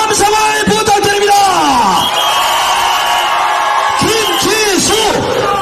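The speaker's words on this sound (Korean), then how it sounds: "여러분 다시 한 번 더 함성을 부탁드립니다" A crowd at a Democratic Party political rally in Korea cheers, whoops and shouts in loud, overlapping bursts, with drawn-out yells rising and falling close by.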